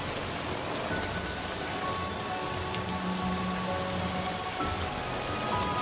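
Heavy rain pours down steadily, a dense, continuous hiss of drops striking surfaces close by, loud and unbroken throughout with no voices.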